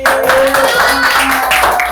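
Children clap loudly for a classmate who won a snack prize during a community service lesson on sorting waste, a brief close burst of quick hand claps over a steady background tone.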